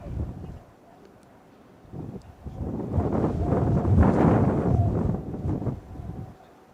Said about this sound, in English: So the wind has died. Yeah, just as I say that, it starts blowing again.